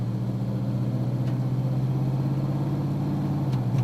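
A car fitted with a 4L60E automatic transmission and a new shift kit accelerating gently on a road test, its steady low engine hum and road rumble droning continuously from inside the cabin.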